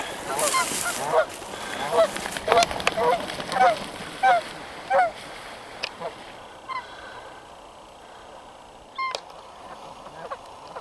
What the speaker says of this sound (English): it's actually this goose making that weird sound.